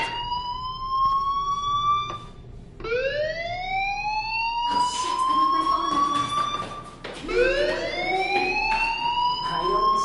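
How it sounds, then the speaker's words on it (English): A fire alarm in the video game Life is Strange sounds as repeated rising electronic whoops, each tone sweeping upward and cutting off before the next, loud and continuous. "Hey, do you hear that fire alarm?"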